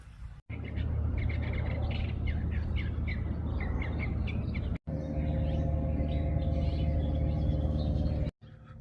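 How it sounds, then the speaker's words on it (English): A scrub jay calling outdoors: scattered harsh chirps and squawks over a steady, loud broadband hiss, with two brief dropouts. "That's the most jacked scrub jay I've ever seen."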